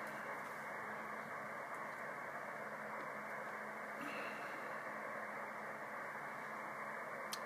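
A CenturyLink DSL modem initializing puts interference onto the 80/75 meter ham band, heard through a radio receiver as a steady, even wash of hiss and static with faint brief ticks, unchanging throughout.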